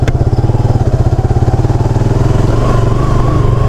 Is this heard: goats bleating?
no